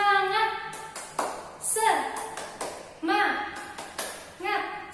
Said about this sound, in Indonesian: Ayo semuanya berdiri, kita akan melakukan tepuk semangat sambil memulai pembelajaran